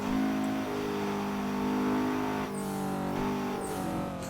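Turbocharged Mazda MX5 with a small TD04 turbo, engine droning steadily under throttle with a shift in pitch partway through and a faint high whistle of turbo spool, loud and close from inside the car on the Nordschleife.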